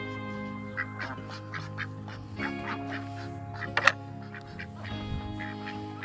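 Several ducks quack repeatedly in short bursts over a low steady hum, with one sharper, louder call standing out midway.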